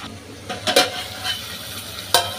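Spiny gourd and potato curry stir-frying in oil in a pan, with a steady low sizzle broken by a few sharp scraping stirs of the spoon, close and moderately loud with no talking.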